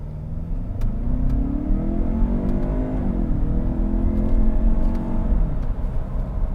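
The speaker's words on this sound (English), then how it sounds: "I'm going to do a slight acceleration run really quick." A 2020 Lincoln Nautilus SUV engine revs steadily higher as it accelerates from a brake-torque start, a smooth rising drone that holds strong throughout with no voices.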